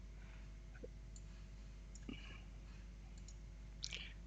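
Computer mouse buttons clicked while working in Visual Basic for writing macros, giving a few sparse, faint, sharp clicks over a steady low hum.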